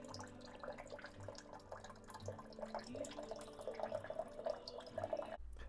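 Water dispensing from a WaterFirst Dr.Water countertop reverse osmosis filter in flush mode, a soft continuous trickle and splash into a container with light dripping, faint and steady before a brief clunk at the end.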